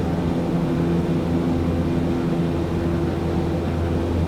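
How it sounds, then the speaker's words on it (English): Beechcraft Starship twin-pusher turboprop in Microsoft Flight Simulator accelerating for takeoff, a steady loud engine drone with strong low tonal hum held evenly throughout, no voices. "Just a little bit, and off goes the aircraft."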